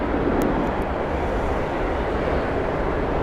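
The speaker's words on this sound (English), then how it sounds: "A350 being taxied or towed to the stand." Airbus A350 airliner at Heathrow Airport moving slowly toward the stand, a loud, steady broadband jet rumble and roar that stays constant throughout.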